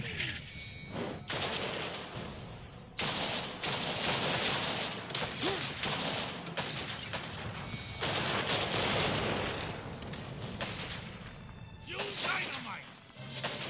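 Cannon blasts and rapid gunfire from the Western shooter game GUN on PlayStation 2, repeated loud booms and crackling shots in quick bursts throughout, with someone talking over the action.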